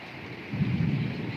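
Thunder rumbles low and sustained during a rainstorm in Maha Sarakham province, Thailand, with a steady hiss of rain beneath it and the rumble swelling midway through.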